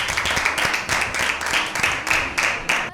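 An audience claps for a correct answer at an Easter Bible quiz, a close, steady burst of hand claps in rhythmic waves with only a few scattered clappers, alone without talk.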